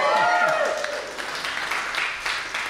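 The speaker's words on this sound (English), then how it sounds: "I think that's worth a round of applause." An audience at a festival conversation event breaks into applause, a dense wash of clapping that starts loud and slowly thins out over a few seconds.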